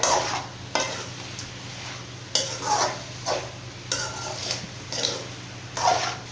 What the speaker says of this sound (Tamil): இப்போ சிக்கன் வந்து வதங்கிட்டு இருக்கட்டுங்க.